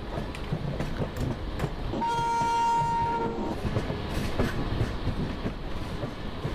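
An LHB passenger train on a South Eastern Railway line near Santragachi sounds its horn in a sustained blast over the steady rumble and clatter of the rolling coaches, heard from close by.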